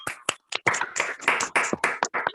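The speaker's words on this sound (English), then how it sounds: "Can you please unmute yourself and clap the hands if you can" Participants on a video call clap their hands, producing a quick run of separate close claps with uneven timing and short gaps, a little clipped and compressed as if coming through call audio.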